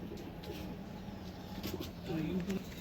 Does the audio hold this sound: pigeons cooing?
yes